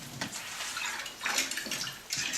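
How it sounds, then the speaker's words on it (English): Bubbling water sound effect played during a children's school play in Japan, bursts of burbling, splashing water rising and falling in a few waves, moderately loud and without talk. "The water began to bubble up to the surface"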